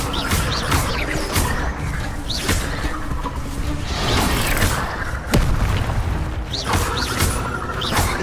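Incendio fire spells cast in Hogwarts Legacy burst out again and again as loud, close booms and whooshing flares, packed densely with little pause between them.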